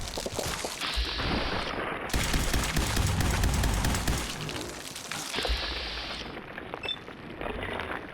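Dense, sustained gunfire from enemies in Fallout 4 crackles almost without pause, heavy bursts and rapid shots layered over booming low rumble, loud and close throughout with brief lulls.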